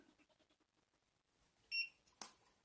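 A Bluetooth smart lock beeps as it powers up: a faint series of soft clicks gives way to a short, clear electronic beep and then a sharper final chirp, close and isolated in a quiet room.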